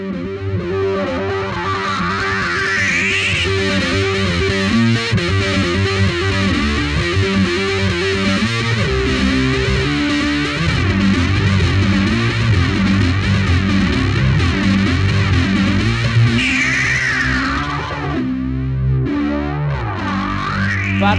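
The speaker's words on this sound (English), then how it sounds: "Place the wah-wah after the drive and listen to what I mean." Overdriven electric guitar run through a wah-wah pedal placed after the drive, a continuous distorted tone with sweeping filter movements rising and falling across the notes, loud and sustained with no talking.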